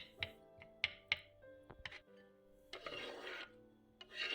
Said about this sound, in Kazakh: осылай пышақпен майдалап турап алсаңыздар да болады